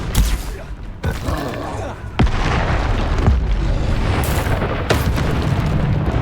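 Bombarda and Confrigo explosion spells in Hogwarts Legacy go off as a dense run of sharp booms and blasts, several loud impacts over about six seconds amid continuous game noise.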